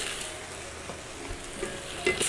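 Sausages, vegetables and white mushrooms being stirred in a frying pan, giving a steady soft sizzle with a few light scrapes and clinks of the utensil, fairly quiet and continuous with no voices.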